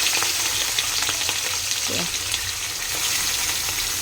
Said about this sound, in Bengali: এই যে এখন কাটাপোনা মাছগুলো এখন লাল লাল করে ভেজে নেব